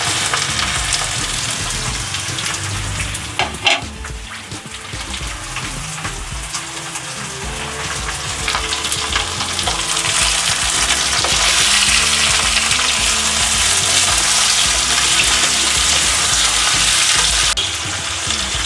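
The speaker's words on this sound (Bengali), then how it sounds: "আমি ফ্লেমটা লো করে দিয়ে চিকেনটা আস্তে আস্তে ফ্রাই করে নেব" Chicken frying in a pan with onions that are already lightly browned, a loud continuous sizzle with occasional stirring scrapes and clinks, growing fuller and steadier toward the end.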